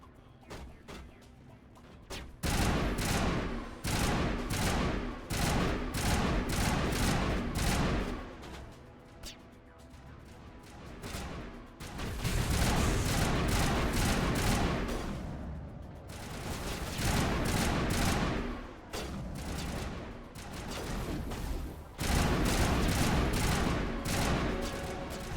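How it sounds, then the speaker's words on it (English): Enemy gunfire in a video game, loud bursts of rapid automatic fire coming in long volleys with brief lulls between them, dense and close, with no talking over it. "Stop shooting me, you fuckers!"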